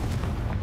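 A short, deep blast from the Confringo spell in the Hogwarts Legacy game, a brief booming burst of low rumble.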